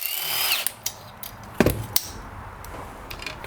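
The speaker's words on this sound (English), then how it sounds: "Got the 1/2-inch socket on the impact here" A pneumatic impact wrench with a 1/2-inch socket hammers at a tight starter bolt on a blown-up John Deere lawn tractor engine, delivering several short sharp bursts close by with brief pauses between.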